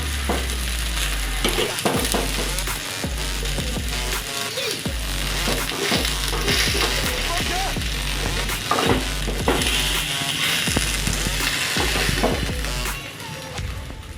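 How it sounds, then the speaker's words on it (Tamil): Kola fish roasting on both sides in a frying pan sizzles continuously and loudly up close, with repeated scraping and clinking of a utensil against the pan and no talking. "ரெண்டு பக்கமும் ரோஸ்ட் ஆக வச்சு நம்ம எடுத்துக்கலாம்."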